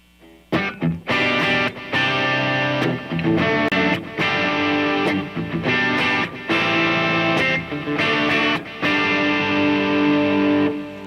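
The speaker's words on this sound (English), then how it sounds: "Add a little distortion with that, throw in a little delay, crank it up a little bit here." Loud, sustained distorted electric guitar chords ring out in a steady sequence, each strummed chord held briefly before the next, with a thick, echoing effect.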